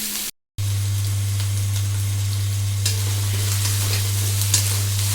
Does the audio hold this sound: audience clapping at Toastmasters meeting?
no